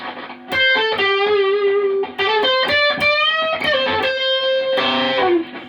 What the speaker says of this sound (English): if you really want to thrash it out, as I say, just put a little bit of distortion